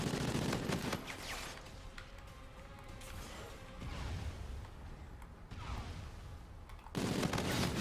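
Gunfire in a competitive online shooter match, several sustained bursts of rapid shots with loud onsets at the start and near the end and quieter stretches of game noise between them.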